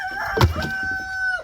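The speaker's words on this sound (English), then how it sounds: "Look at that rooster." A farm rooster crows close by, one long drawn-out cock-a-doodle-doo with a faint thump near its start, clear and alone.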